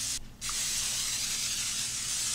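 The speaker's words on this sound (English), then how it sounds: "I'm gonna spray it with some cooking spray." Cooking spray hisses steadily from an aerosol can onto a 10 by 12 baking pan, a close, continuous burst after a brief pause at the start, with no talking.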